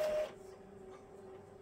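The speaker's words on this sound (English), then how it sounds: "Like I said, you're going to hear my printer." Home printer feeding and printing pages during a Christmas card-making session, a steady mechanical whir with a low constant hum that follows a brief louder start, with no talk over it.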